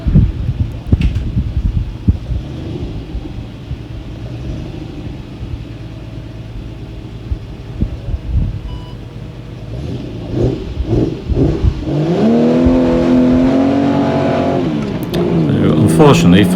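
Triumph TR6 sports car lapping in a sprint at Mallory Park, its engine rumbling loudly close by with wind buffeting, then revving and rising in pitch through gear changes.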